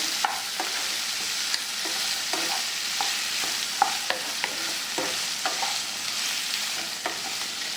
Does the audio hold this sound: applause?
no